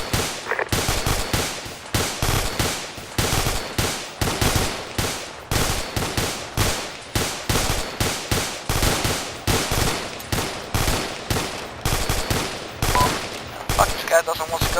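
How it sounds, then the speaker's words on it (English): Sustained machine-gun fire in a military combat scenario, rapid repeated bursts of loud close shots continuing for the whole stretch, with no clear voices over it. "Charlie, keep up fire. He's still active"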